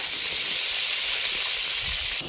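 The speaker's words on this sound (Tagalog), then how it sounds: "Pressure cooker na para mabilisan." Pressure cooker boiling beef lets off a loud, steady steam hiss with no break for about two seconds, then it drops off abruptly near the end.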